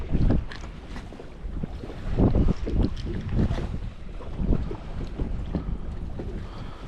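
Gusty wind blows over a small fishing boat on a lake during spring crappie fishing, loud buffeting rumbles that swell and ease in bursts, with faint water movement beneath.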